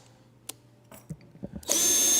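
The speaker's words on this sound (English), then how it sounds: "We're gonna roll the drill backwards and then forwards" Power drill run backwards and then forwards to clean out a pin hole at a repair bench, a few faint clicks and handling knocks, then the motor whirs up loud and steady.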